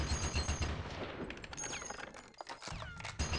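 Gunfire crackles in Conker's Bad Fur Day as rapid automatic bursts and single shots stutter in quick succession, with brief gaps between volleys.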